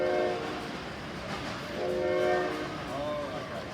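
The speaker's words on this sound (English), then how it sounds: "That horn is so loud." A passing train sounds its horn in two long sustained blasts, moderately loud outdoors over low rumbling background noise.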